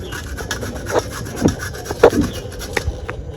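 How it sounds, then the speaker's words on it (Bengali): Carrots are rubbed across a hand grater in a quick, uneven run of scraping rasps, several sharper strokes standing out, close by and with no one talking. "এখানে একটা ঘষুনি নিয়েছি ঘষুনি দিয়ে আমি ঘষে নিব"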